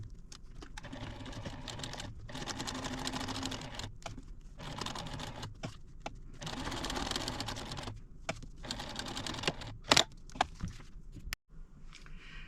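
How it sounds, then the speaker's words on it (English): A sewing machine stitches a vinyl piece onto the front panel of a pencil pouch, running in steady close bursts with brief pauses between passes. "now I'm going to just go stitch this on to my"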